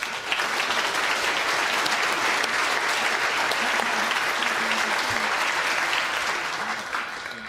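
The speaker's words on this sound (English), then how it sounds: "Zhan, big round of applause" A studio audience gives a big round of applause, loud and sustained clapping from a crowd that holds steady before tapering off toward the end.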